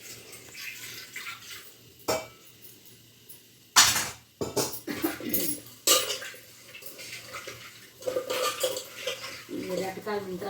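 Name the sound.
fish pieces frying and being stirred in a pan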